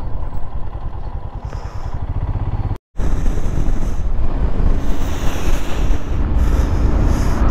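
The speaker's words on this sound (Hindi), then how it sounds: "इतनी तेज हवा चल रही है ना" Strong wind gusts across the Leh–Manali mountain highway, buffeting the microphone in loud, rough bursts with a low rumble. The roar is continuous apart from a brief cut near the start.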